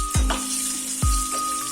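Potatoes with salt and turmeric frying in hot oil, a continuous sizzle broken by two heavy thuds about a second apart as they are stirred or dropped in, with a faint steady tone underneath.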